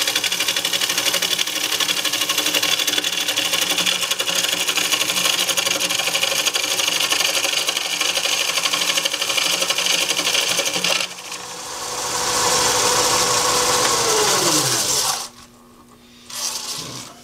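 A wood lathe turns a figured maple blank, giving a steady, loud whirring drone with a tool scraping across the spinning wood, briefly easing off, then resuming before the lathe winds down near the end.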